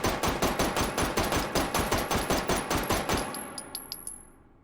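A rapid burst of roughly twenty gunshots from a gun fired with its stock folded back, loud and evenly spaced, followed by fading metallic tinkles of falling casings.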